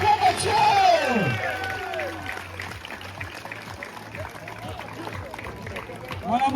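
A village festival crowd in Saint-Gervais-sur-Mare applauds and cheers, with rising whoops and shouts at the start that settle into a steady clatter of clapping and voices.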